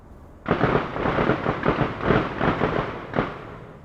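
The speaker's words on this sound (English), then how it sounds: "The noise of gunfire isn't from street violence." Rapid, overlapping bursts of gunfire rumble continuously for several seconds, with one final separate shot; the sound is loud, echoing and outdoors.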